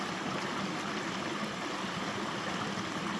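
Water swirls and sloshes in a gold pan during panning in western Maine, making a continuous close rushing wash with no pauses.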